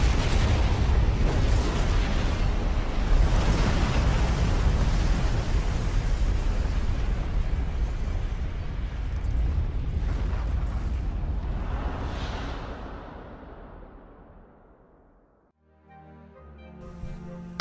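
Large explosion in the video game Resident Evil 2, a long, loud, rumbling blast that roars steadily, fades away over several seconds, then gives way to quieter musical tones at the end.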